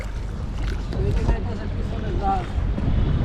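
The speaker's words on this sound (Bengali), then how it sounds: "এই যে আমার পিছনে দেখতে পাচ্ছেন পিছনে একটি বড় জাহাজ আসতেছে" A large sand-carrying ship on the Turag river rumbles as a low, steady drone under wind buffeting and a voice talking nearby.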